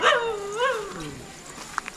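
A family dog at a forest home gives a close, high whimpering whine that slides up and down, followed by a couple of short, sharp yips.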